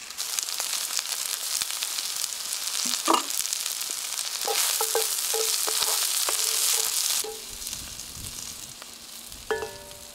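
Finely chopped garlic sizzles in a hot pan with red pepper, a steady close frying hiss with a few utensil scrapes and clicks throughout and no talking.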